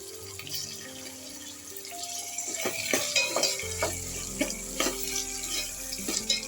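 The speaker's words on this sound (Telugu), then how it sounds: "ఇది ఫ్రై అయింది కదా, అల్లం పేస్ట్ ఒక్క 2 టమాటాలు ఇట్లా కట్ చేసుకొని వేసుకో" Ginger paste and chopped tomatoes go into hot oil in a pan, starting with a quiet background and then a rising sizzle and frying hiss, with scrapes and stirring clatter over the final seconds.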